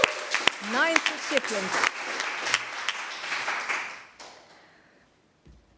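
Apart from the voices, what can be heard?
audience applause for award recipient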